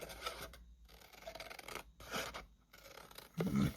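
Scissors cutting along Stampin' Up! Violet Dreams card stock while making a small gift package, quiet close snips and rasping strokes in several bursts separated by brief pauses, with no talking.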